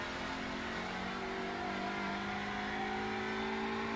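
A touring race car's engine drones from the cockpit on a final championship lap, a steady high-pitched revving whine with shifting tones, continuous and constant in level.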